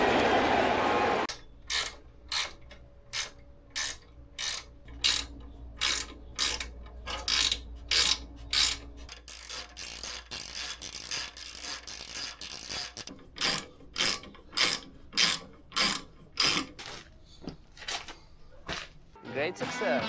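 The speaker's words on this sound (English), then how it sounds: "we're going to gradually tighten all of the bolts." A hand ratchet tightens bolts on protection parts being fitted to a KTM motorcycle, giving sharp repeated clicking bursts in steady strokes with short pauses between them, close and clear.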